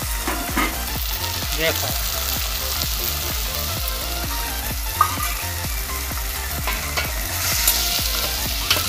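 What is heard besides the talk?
spices frying and being stirred in oil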